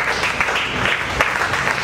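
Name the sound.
congregation applause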